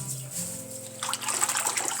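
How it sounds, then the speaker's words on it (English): Water is poured into wallpaper paste while it is stirred in a small kitchen, a soft trickling splash that starts partway through and grows busier, faint and close with a low hum underneath and no talk. "I will pour and stir so that it can dissolve."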